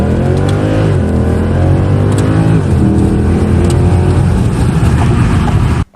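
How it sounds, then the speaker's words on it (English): A Mercedes C63 AMG engine revs hard and loud, its pitch sweeping up and down, with crackles and pops on the exhaust, close and unbroken with no talking. "This thing likes to crackle, pop, burble."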